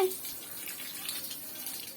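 Water runs steadily from a tap while a dog is being bathed, making a continuous soft hiss and gush at moderate level with no other sound standing out.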